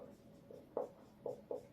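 Chalk tapping and scraping on a board as a teacher writes during a modern Indian history lesson, a few short strokes at a steady pace, fairly quiet with no talking.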